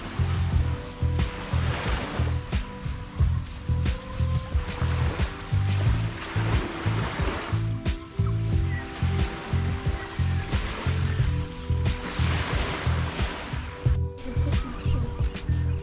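Waves wash onto the beach at Teluk Pelanduk, Port Dickson, in a repeating rhythm of soft surges and hisses, fairly quiet and steady throughout with no voices.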